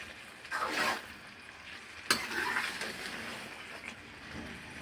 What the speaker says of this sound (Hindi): तो बस हमने अब इसको भूनना है